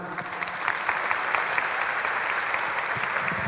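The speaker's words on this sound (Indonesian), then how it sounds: "Ya, tepuk tangan." An audience claps together at a public talk, a dense steady burst of close applause that holds at full strength throughout, with no voices standing out.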